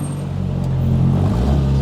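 A rally car engine idling and rumbling low while being parallel parked on a street, steady and close with a slight rise in revs toward the end.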